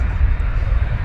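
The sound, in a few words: aeroplanes at Manchester Airport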